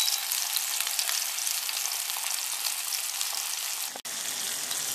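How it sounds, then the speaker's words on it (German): Loud, steady sizzling of beef burger patties frying in a pan on medium heat, a continuous crackling hiss with a brief interruption near the end. "Pfanne auf mittlere Stufe, die Buletten jetzt 3 Minuten von jeder Seite anbraten"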